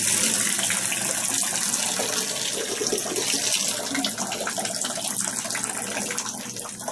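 A hotel shower at a Ramada Inn in Roanoke, Virginia runs steadily, a close, loud, hissing spray of water that continues unbroken with no one speaking.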